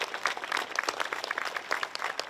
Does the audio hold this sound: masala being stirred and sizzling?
no